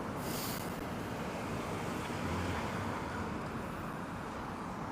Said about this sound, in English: A little bit windy out here.